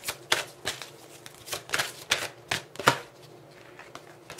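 Tarot cards being shuffled close up in a run of crisp, papery riffling bursts with short pauses between them, fading out toward the end.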